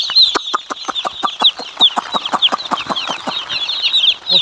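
Poultry chickens on a farm cluck over and over in a dense, rapid chorus of short calls, near and fairly loud, with no talking.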